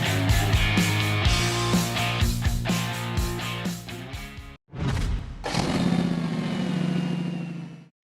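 A Harley-Davidson Rocker C motorcycle engine, loud and close, with a throbbing, revving rumble that cuts out abruptly and then roars back to life before fading at the end.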